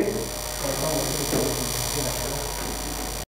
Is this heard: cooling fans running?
yes